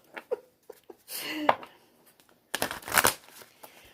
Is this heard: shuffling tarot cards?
yes